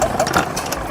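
A restored gas engine drives a French washing machine from the 1920s. It runs steadily with a rapid, knocking mid-pitched chug that is close and fairly loud through the whole second.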